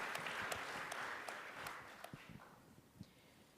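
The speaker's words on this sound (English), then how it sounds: "huge round of applause." An audience claps to welcome performers onto stage at an entrepreneurship summit opening, a dense, steady wash of applause in a large hall that gradually thins and fades toward the end.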